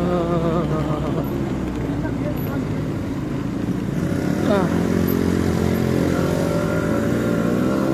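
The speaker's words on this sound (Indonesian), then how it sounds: "Aduh, motor nggak kuat nanjak." Motorcycle engine labouring up a steep uphill back road near Bogor, a continuous strained drone that rises in pitch partway through, close and steady, with people talking over it.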